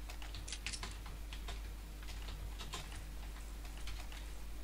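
Computer keyboard clattering during a CS:GO match, quick irregular key taps and clicks over a steady low electrical hum, close and fairly quiet throughout.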